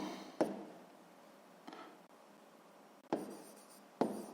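Pen writing on paper while solving a sixth-grade math exercise, a few sharp close taps and brief scratchy strokes separated by quiet pauses, soft and intimate.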